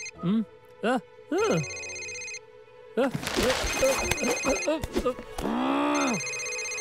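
A telephone rings in a steady repeating pattern in a library in a children's cartoon, with people talking over it and between rings, close by.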